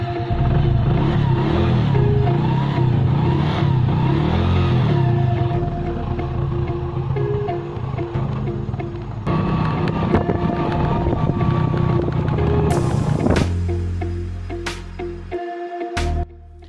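A motorbike rides along a village road on its way to servicing, its engine droning steadily up close with wind rush, then changing pitch and easing off near the end.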